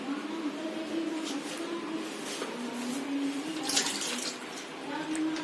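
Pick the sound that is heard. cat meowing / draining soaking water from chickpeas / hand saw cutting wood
draining soaking water from chickpeas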